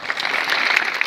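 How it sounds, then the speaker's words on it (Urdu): An audience at a school gathering claps for a student receiving a pen as a prize, giving a short, dense burst of applause close by with no speech over it. "یہ تالیاں بھائی"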